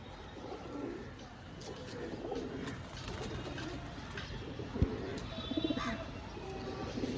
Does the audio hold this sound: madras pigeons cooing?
yes